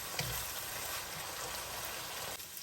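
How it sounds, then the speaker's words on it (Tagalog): Brown pork sizzles steadily in a pan while being stirred for palabok, a continuous close crackling hiss with a few soft scrapes and no talking. "halu-haluin lang po natin hanggang maluto yung ating brown pork"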